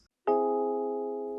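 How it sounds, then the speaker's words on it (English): A medium-dissonance chord strikes after a short silence, then holds as a steady, moderately loud cluster of tones that decays only slightly over about a second. "Medium dissonance sounds like this."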